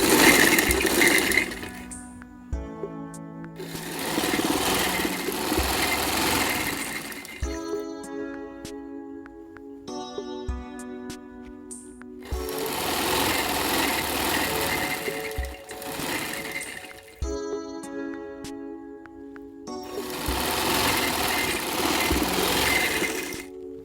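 Sewing machine stitching salwar pieces together, running in several loud, steady bursts of rapid mechanical stitching separated by short pauses, with no talking.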